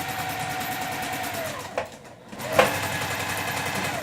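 A sewing machine with its regular presser foot stitches quilt blocks in a steady close mechanical whir, briefly dipping to a pause before running on again; no talk is heard.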